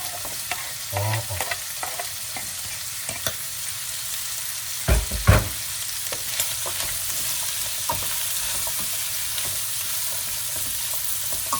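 Shrimp and vegetables stir-fry for a spicy appetizer, a steady hiss of sizzling oil throughout, broken by a few scraping stirs and a pair of loud clattering knocks near the middle.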